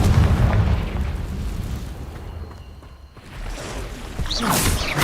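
A Confringo explosion spell goes off in Witch Simulator 2023 with a loud, deep rumbling blast that dips briefly, then swells again, with a whooshing flourish near the end.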